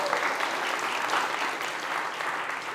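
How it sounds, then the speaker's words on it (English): An audience at a SXSW food event applauds, giving a dense, steady wash of clapping that holds evenly throughout without fading. "you can give them a round of applause"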